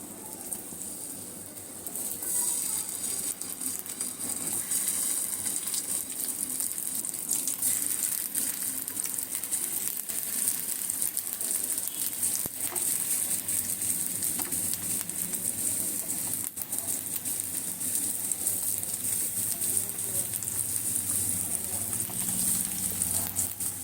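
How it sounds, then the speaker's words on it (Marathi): Thinly sliced potatoes with the skins left on roast in a pan, giving a steady, even sizzle with faint crackles that runs unbroken for the whole stretch, close and fairly loud, with no talking over it. "हे मी कापून घेतलेले बटाटे आता आपल्याला रोस्ट करायचे आहेत ह्या प्रकारे"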